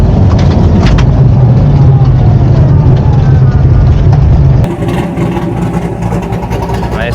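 1969 Pontiac GTO pro-touring car at a drag race launch, its engine roaring loud and close with rough churning from wheels spinning, then the roar drops away abruptly partway through.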